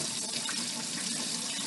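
Cloudy rinse water pours steadily off rice into a sink in one continuous, close splashing stream.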